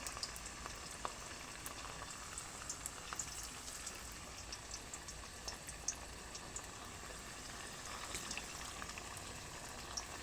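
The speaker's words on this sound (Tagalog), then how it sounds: "piprito muna natin yung ating tokwa" Tofu fries in a pan with a steady, quiet hiss and sizzle, scattered with small pops and crackles throughout, and no voices.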